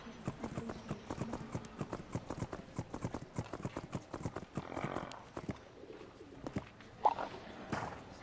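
Horse hooves clip-clop in the video game My Little Riding Champion, a quiet steady trot of regular hoof beats with faint bird calls in the background.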